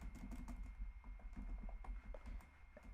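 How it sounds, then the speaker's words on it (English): Quiet, rapid key clicks from typing on a computer keyboard, a steady irregular patter of keystrokes close by with no talking. "Why am I typing this here?"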